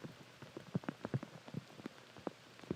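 Rain pouring down on a disc golf course during a professional final round, heard as a steady patter of drops hitting nearby surfaces, with scattered louder close splats throughout and no voices.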